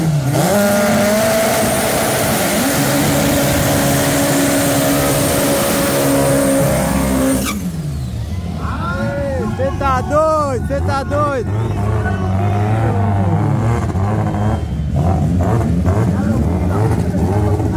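Rear-wheel-drive drag race cars with C20XE and AP engines roar at full throttle, a loud sustained howl that cuts off and gives way to sweeping revs and passing engine wails, with crowd voices and chatter underneath.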